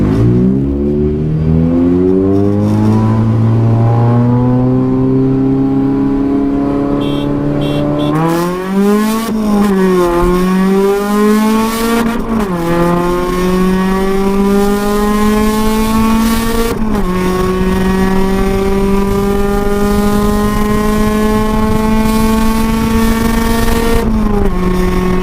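Car with aftermarket cams accelerating hard through the gears, loud close revving rising in pitch with sharp drops at each shift, no talking.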